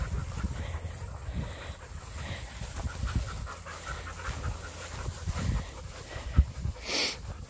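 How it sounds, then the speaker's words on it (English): Dogs panting rhythmically close by outdoors during pack work, with wind noise and a brief whimper-like sound near the end. "the dogs."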